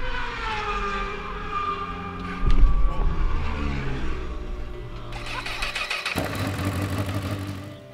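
A Suzuki GS500E motorcycle engine on a racetrack in Alcarràs, Spain, struggling and failing to take throttle, rumbling and revving unevenly, with a louder surge midway and a harsher, buzzier tone near the end.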